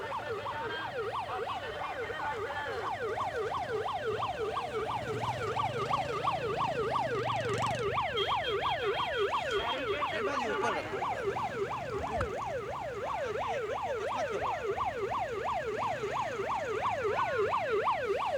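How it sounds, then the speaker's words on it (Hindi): A wailing police siren sweeps up and down steadily and loudly at a farmers' tractor rally on Republic Day at Mukarba Chowk, with crowd noise and engine rumble underneath. "ये देखिए सायरन भी बजाया हुआ है, सायरन भी लगाया हुआ है, पुलिस सायरन भी है"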